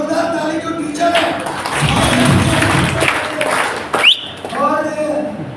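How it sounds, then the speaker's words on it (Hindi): Loud applause at a marketing company meeting in Kukshi, Madhya Pradesh: a crowd claps strongly for a few seconds, with people talking before and after the burst. "वेरी गुड, जोरदार ताली"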